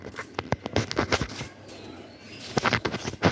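Pigeons beating their wings at close range, a series of quick, loud flapping bursts with a short quieter gap in the middle.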